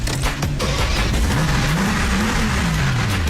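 A Mercedes-Benz G-Wagon AMG engine roars close and loud, its pitch climbing and falling through several revs in a continuous growl.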